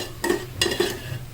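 Food fries in a pan until brown, with three quick scraping spatula strokes over a low, steady sizzle close by.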